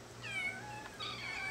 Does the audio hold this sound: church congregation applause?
no